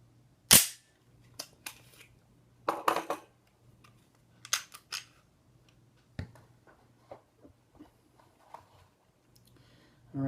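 A Ruger SR9E pistol's slide stop operates on an empty magazine, producing sharp metallic clacks and snaps scattered across a quiet room, with a few clustered clicks and softer handling taps between them.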